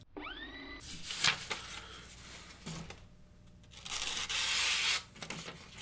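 Knife blade drawn along a Lansky Blade Medic ceramic rod in a few rasping, scraping strokes, near and fairly loud, with quieter pauses between passes.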